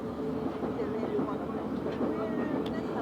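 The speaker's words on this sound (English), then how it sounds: "Central Line now departing." Continuous low rumble of a London Underground Central Line train pulling away from Stratford station, steady and fairly close, with speech faintly present in the background.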